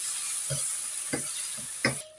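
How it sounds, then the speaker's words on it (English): Garlic, onions and tomato sauté in a pan: a continuous soft sizzle broken by four short scraping stirs spaced about half a second apart, with no voices. "on the same pan, saute the garlic, followed by onions and tomato."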